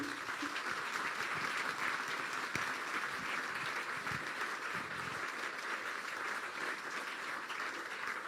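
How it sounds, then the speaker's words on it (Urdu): Sustained applause from a church congregation at a worship service, a steady dense wash of many hands clapping at a fairly even level throughout, with no talk over it. "یسوع کے لیے زوردار تالیاں بجا دیں."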